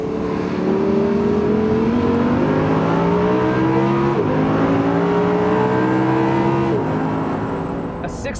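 A 2014 Audi R8 V10 Plus engine revs hard through rising gear pulls toward 8,000 RPM, loud and close with a climbing howl, a brief dip at each shift, then easing off.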